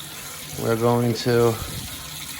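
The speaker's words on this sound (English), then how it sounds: "now that the water is running clear here" Water runs clear from a small hose spout on a gas water heater's plumbing, a steady hiss and rush under a man's close speech.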